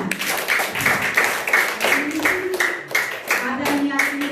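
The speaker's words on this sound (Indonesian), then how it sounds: "Tepuk tangan." Clapping from a group at the closing Mass of a children's retreat, individual hand claps standing out in a fairly close, uneven rhythm, with some voices mixed in.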